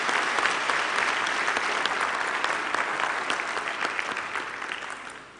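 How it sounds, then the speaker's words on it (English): A loud, sustained round of applause from a large crowd at a Nelson Mandela University graduation ceremony in Gqeberha, dense and even, slowly tapering off toward the end. "Will you please give, particularly our administrative staff who've made all these arrangements, a loud round of applause."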